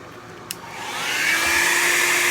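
A hair dryer blows steadily on alcohol ink for an abstract painting, its airflow rising to a loud, even whoosh after a faint click near the start.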